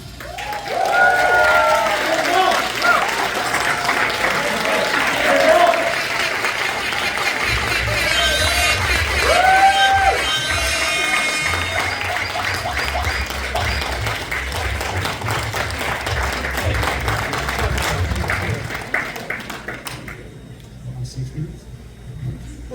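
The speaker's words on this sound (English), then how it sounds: "A round of applause for Dr. Wong." An audience at a medical society gala applauds an award winner, with sustained loud clapping and some cheering that fades out near the end, while voices speak over it.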